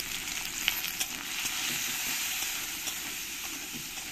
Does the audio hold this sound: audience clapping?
no